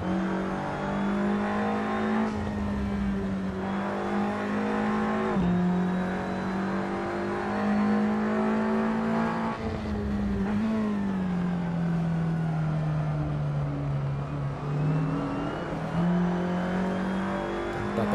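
A TCR touring race car engine in the Assetto Corsa racing game drones loudly and continuously, rising and falling in pitch through gear changes and revving with no talk over it.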